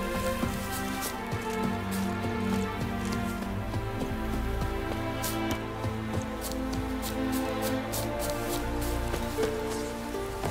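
Rain patters steadily on surfaces in The Witcher 3: Wild Hunt, a dense even hiss with scattered drops, joined by horse hooves clopping along underneath; no talking.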